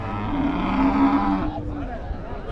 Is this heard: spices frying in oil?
no